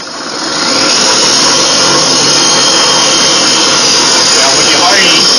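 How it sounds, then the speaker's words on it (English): A cylinder hone spun by a power drill works inside a dirt bike engine cylinder, a loud, steady, close whirring grind that starts after a short pause and runs without a break. "Now, when you're honing, you want to bring it up and down."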